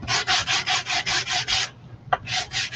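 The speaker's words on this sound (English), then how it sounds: "Get my sander. I'm just going to sand this one" Rhythmic rasping strokes of sanding across a painted craft piece, eight even back-and-forth passes close up, a short pause with a small knock, then more strokes resuming, with no speech.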